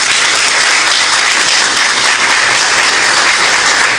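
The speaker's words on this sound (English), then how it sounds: "Let's give her a round of applause" A large crowd at a political running-mate unveiling event bursts into a loud, dense round of applause, continuous clapping that fills the space for several seconds.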